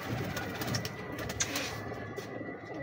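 A female pigeon coos at close range, soft repeated low calls over a steady background hiss, with a few brighter chirps from other birds early on.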